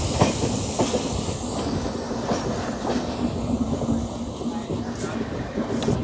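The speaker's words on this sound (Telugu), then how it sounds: "Sanghamitra super fast express." Sanghamitra Superfast Express train rolling on rails, a close, steady rumble with rhythmic clickety-clack of wheels over joints and a brief high squeal near the end.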